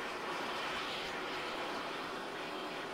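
An aircraft in ARMA 3 touches down on a salt lake, its engine holding a loud, steady broadband roar throughout with no clear changes and no talking.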